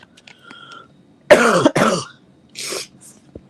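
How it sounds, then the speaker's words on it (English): A person coughs twice in quick succession, close and harsh, followed by a shorter softer cough, with quiet background noise and faint tones in between. "I feel your pain with that cough, by the way."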